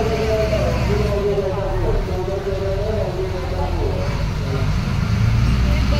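A state transport bus pulls away and drives on a rainy road, its engine a loud, steady low rumble with road and traffic noise, heard from inside the moving vehicle.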